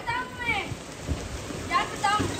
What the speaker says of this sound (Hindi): बारिश जो है ना आ चुकी है।